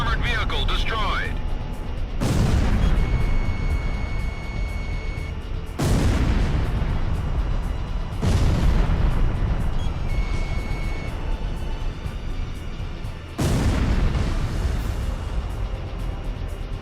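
Heavy booms from a destroyed enemy armored vehicle in War Thunder, several loud blasts spaced a few seconds apart over a continuous roaring engine and battle rumble.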